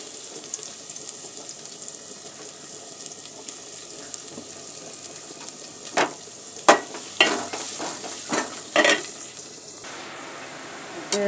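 Chopped onion goes into hot oil in a home kitchen pan, with a soft steady sizzle under a brief running-tap sound, then a run of sharp scraping stirs toward the end.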